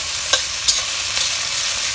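Onion being stirred and sautéed in a pan for a fish curry, a steady loud sizzle with a couple of sharp spoon scrapes against the pan.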